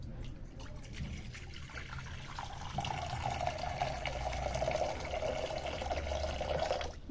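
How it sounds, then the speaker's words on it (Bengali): Water pours steadily into a kadai for boiling pasta. A soft splash settles into a continuous, fairly quiet filling stream that runs to the end. "কড়াইয়ের মধ্যে পানি দিয়ে দেবো।"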